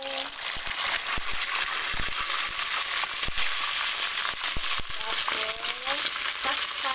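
Food dropping into hot cooking oil for frying, a loud, continuous, close sizzle with sharp crackles and pops and occasional utensil clicks, with brief speech over it.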